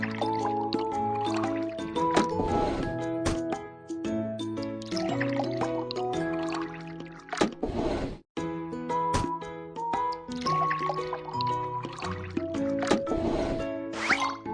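Cartoon liquid pours and gurgles into a car's tank in a children's car repair game. Short drippy squishes and glugs sit under bright, tinkly background music.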